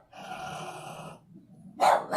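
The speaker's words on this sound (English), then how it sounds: "Hey, Esri, we don't need a bark, do we, sweetie?" A dog indoors gives a short growling bark, then after a brief pause two sharp, close barks follow in quick succession; faint and brief overall with no talking.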